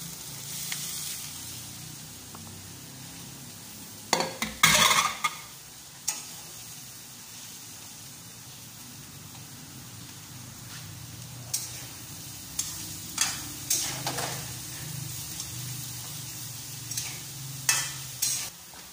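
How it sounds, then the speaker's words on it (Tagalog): Baguio beans tumble into a hot pan and are stirred, with a soft continuous sizzle broken by several sharp scraping and clattering spikes from the utensil. No one speaks. "lagay na natin yung ating Baguio beans"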